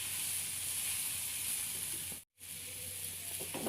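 Masala spice powder frying in a pan, a steady soft sizzle throughout, quiet and close, with one brief dropout near the middle and no talk.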